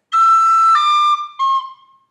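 Tin whistle plays the opening section of Garret Barry's Jig, a few clear notes with a slur then a tongued note, close and solo with no talk.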